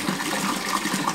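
Water pours into a fish pond being filled for gourami, a dense, continuous gushing splash that is close and loud for the whole short stretch, with no talking.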